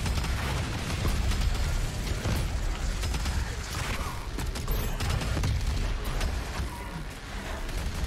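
Rocket launcher fire and explosions in the video game Doom Eternal, a dense, continuous barrage of booms, bursts and mechanical clatter that stays loud and busy throughout with no clear gaps.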